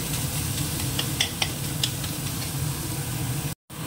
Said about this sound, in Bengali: একটু লাল করে চিংড়িটা ভেজে নিই,